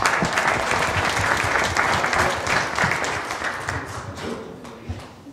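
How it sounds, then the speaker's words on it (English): An audience at a mayor's evening community event claps together, a dense, fairly loud round of applause that holds steady and then gradually thins and fades toward the end, with no speech over it. "Let's give him a big round of applause."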